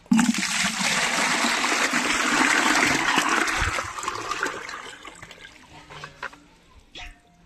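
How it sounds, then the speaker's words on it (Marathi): Water from a pot is poured into a bucket for an animal to drink, a loud sustained gushing splash lasting several seconds before tapering into trickles and drips. "या बकेटमध्ये टाकू आपण एक हंडाभर पाणी."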